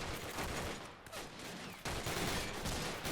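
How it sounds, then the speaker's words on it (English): Colt 45 pistol fire in the World War II strategy game Men of War, mixed with battlefield gunfire as a dense, crackling barrage of rapid shots, with a sharp burst near the two-second mark. "You hear that? Colt 45? That's a Colt 45."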